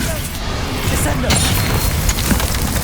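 Hogwarts Legacy Descendo spell striking with a heavy booming impact in game combat, a dense rumbling crash layered over continuous battle noise and effects.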